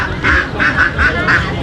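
Ducks quack in a steady run of four or five nasal calls at a village market in Aceh Tenggara, close and loud over a low background murmur.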